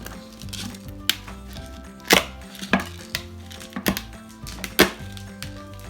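Black peppercorns crushed under a flat knife blade on a board, heard as a handful of sharp, separate cracks and taps spaced irregularly over a quiet kitchen background with music underneath.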